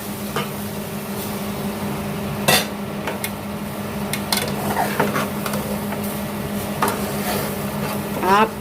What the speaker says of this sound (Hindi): अब इसी में मैं डाल दूँगी 1 कप दूध जो था